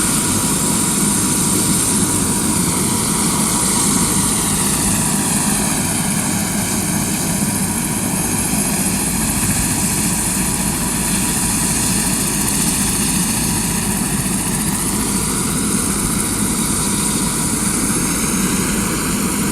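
A police rescue helicopter's engine and rotor drone loud and steady throughout, a continuous close roar with no breaks, while the crew readies the cabin for a paramedic to treat a hang glider crash victim.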